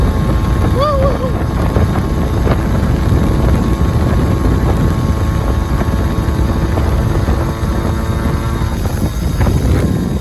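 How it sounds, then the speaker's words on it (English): Loud, steady wind roar buffets the microphone throughout a ride on a Honda Urban Express motorcycle, a broadband rush with constant low rumble and a brief whine early on. "Oh, we got wind."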